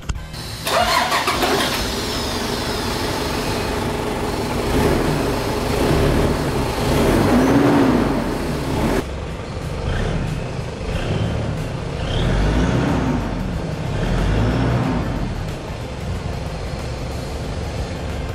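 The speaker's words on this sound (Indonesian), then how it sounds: "Dan sekarang yuk kita coba nyalain mesinnya." A 1997 Toyota Land Cruiser Prado engine cranks and catches, then settles into a steady idle with several swells of revving, close and loud with no talking.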